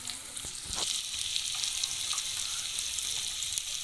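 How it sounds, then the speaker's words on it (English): Onions fry steadily in a pan while being cooked down to go with smothered beef liver, producing a continuous close hiss and sizzle with a few soft stirring knocks. "So guys, here I'm just cooking my onions to make sure they are well cooked."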